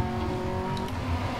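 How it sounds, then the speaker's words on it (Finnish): A rally car engine in Dirt Rally 2.0 holds very high revs, a steady buzzing whine sustained throughout the short moment with no talking. "jos kuulostaa, että mä käytän kauhean korkeilla kierroksilla"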